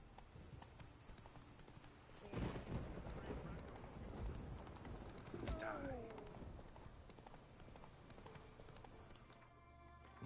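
Roach the horse gallops in The Witcher 3, a steady drumming of hooves at moderate distance with occasional heavier thuds, fairly quiet overall.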